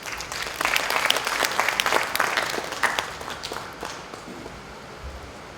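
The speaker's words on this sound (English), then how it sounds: "A resounding round of applause, please." A round of applause from an audience at an army public relations workshop, dense at first, then thinning and fading toward the end.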